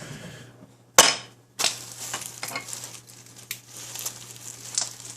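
Chopped BLT salad being stirred with mayonnaise gives sharp scraping and clattering bursts followed by soft, wet crinkling and patter, close and continuous over a low steady hum.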